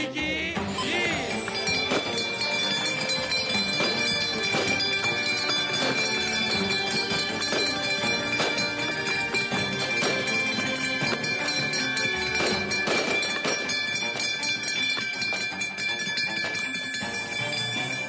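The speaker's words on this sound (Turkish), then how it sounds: "Ve Borsa İstanbul'da Coagranit için gong töreni düzenleniyor." A ceremonial gong is struck at the Borsa Istanbul stock exchange during a listing ceremony, its loud metallic ringing sustained and shimmering for about eighteen seconds over a busy, crowded hall.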